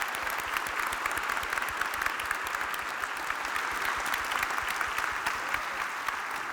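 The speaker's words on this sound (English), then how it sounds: "if we could get one more round of applause for Call Your Roll from Ray Marsh Elementary School" Steady applause from an audience at a school foundation fall breakfast, a dense even patter of many hands clapping without a break, moderately loud and filling the room.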